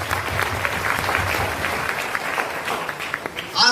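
Crowd at a DXN motivational meeting in Bihar applauding the women present, a thick, sustained wash of many hands clapping at steady volume, with a brief louder burst and faint voices near the end.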